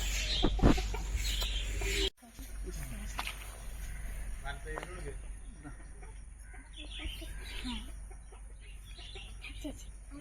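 Chickens cluck around a home, moderately close and intermittent, with voices talking over them and a sharp knock or bump early on.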